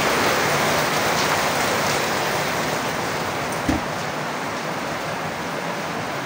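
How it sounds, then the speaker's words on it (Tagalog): Heavy rain pours in a dense, continuous hiss, loud and close, with one brief knock partway through and no talking. "Umuulan, lakas ng ulan."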